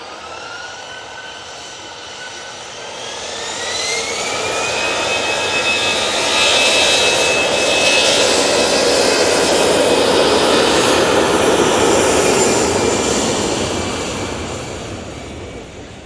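EasyJet airliner departing Manchester Airport for Hamburg, its jet engines swelling to a loud, sustained roar with rising whine tones, then fading slowly as it climbs away.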